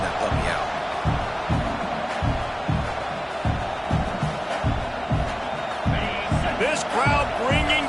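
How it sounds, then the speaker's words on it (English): A football stadium crowd roars steadily throughout, with a regular thumping beat of drums or stomps and occasional whoops and whistles rising above the din. "This crowd bringing the energy and noise early."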